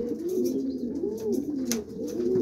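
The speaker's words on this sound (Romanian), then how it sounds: "Sunt în total 55 de porumbei zburători." Racing pigeons in a loft of about 55 flying birds coo in soft, continuous overlapping rolls, with several birds close by and no talk.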